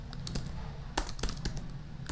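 Quiet, close keyboard typing at a computer, a quick burst of separate key clicks at an irregular rhythm over faint background hum, with no talking.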